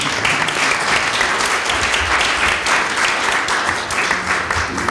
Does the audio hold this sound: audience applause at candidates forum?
yes